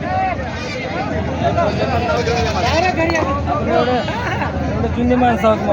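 Goats bleat repeatedly at the Gangakhed goat market, several animals calling close by over a busy crowd murmur, with people talking nearby.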